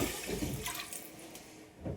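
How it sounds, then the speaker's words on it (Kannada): Water pours steadily into a cooking pot for rice, a continuous rushing splash lasting the whole moment, fairly loud and close with no talking. "ಇವಾಗ ನೀರು ಹಾಕೋತಾ ಇದ್ದೀನಿ."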